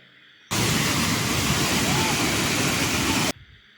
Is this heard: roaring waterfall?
yes